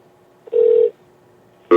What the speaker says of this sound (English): We're going to call Tom Green right now